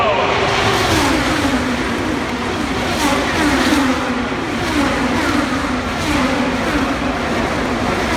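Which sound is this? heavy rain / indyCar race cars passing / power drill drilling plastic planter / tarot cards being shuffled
indyCar race cars passing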